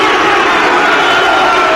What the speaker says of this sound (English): the Millwall crowd generate this sort of atmosphere